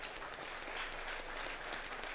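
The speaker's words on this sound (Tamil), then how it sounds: "ராகவுக்கு ஒரு நல்ல கைத்தட்டல் தாங்க." An audience at a book festival speech in Thanjavur claps steadily, a dense wash of many hands heard from within the crowd.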